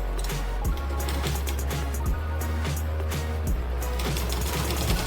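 A sewing machine stitches a double-folded kurti strip with a steady low motor hum, broken by short pauses and restarts, close up and alone.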